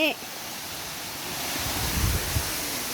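The waterfall at Wat Tham Bon gives off a steady, even rushing hiss heard from some distance, with a brief voice at the very start and a slight swell of low rumble later on.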